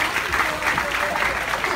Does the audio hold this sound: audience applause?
yes